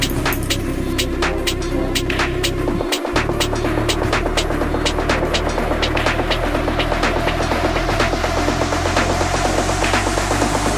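A knife cutting bael fruit (wood apple), a dense run of rapid, close chopping and scraping strokes against a hard surface, loud and continuous with one brief pause.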